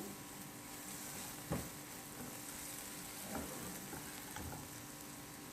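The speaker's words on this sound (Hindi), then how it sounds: "अभी मैं इनको मक्खन में अच्छे से फोल्ड कर रही हूँ।" Vermicelli roasting in butter in a pan sizzles steadily up close, with occasional soft scrapes and knocks as it is folded and stirred. No one speaks.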